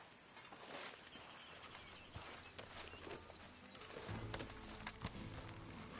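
Horse hooves clip-clop steadily across the ground in the Red Dead Redemption 2 video game, a continuous rhythmic trot with a denser, louder low rumble of hoofbeats building toward the end.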